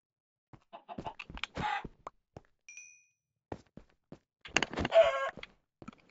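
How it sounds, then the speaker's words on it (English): A Minecraft chicken in a cave gives short, scattered clucks among game sounds, with bursts of footsteps or blocks and a brief chime, moderately loud against near silence. "Cave chicken."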